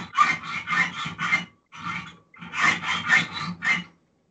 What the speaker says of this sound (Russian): Долго вам еще пилить-то образцы?